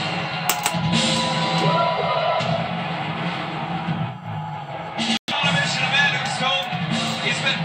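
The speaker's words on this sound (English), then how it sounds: "You can hear the crowd." A wrestling arena crowd roars and shouts as Marty Scurll makes his entrance for a big match against Okada, a dense, sustained wall of cheering and yelling with a brief sharp dropout near the end.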